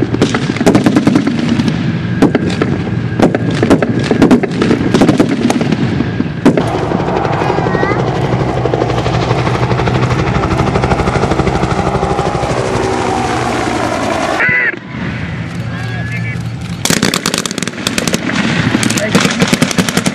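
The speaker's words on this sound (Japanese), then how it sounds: "FH70 が射撃を実施します。" FH70 howitzer fired during a Ground Self-Defense Force ordnance school anniversary ceremony at Tsuchiura in 2008: loud, booming broadband blasts over a constant outdoor roar, with a public-address announcer talking.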